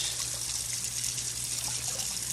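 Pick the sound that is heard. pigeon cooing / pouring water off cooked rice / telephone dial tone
pouring water off cooked rice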